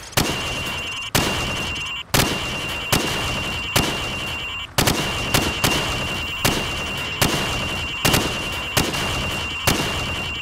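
Rapid rifle gunfire in Call of Duty 4 as pop-up targets are shot down one after another, roughly ten loud, close shots at a fairly steady rhythm, each with a short crack and decaying tail, no talk.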